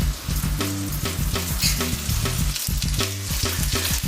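Lamb chops fry in a pan with a steady, close sizzle, broken by soft stirring and scraping sounds over about four seconds; a low musical bed plays underneath and no one speaks.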